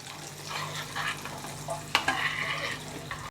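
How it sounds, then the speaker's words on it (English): A spoon stirs powdery spices through a pot of hot chili oil, steady close scraping and soft sizzle with a few sharper clinks against the pot near the end. "Just give it a little mix to make sure none of the powdery spices stick to the bottom of the pot."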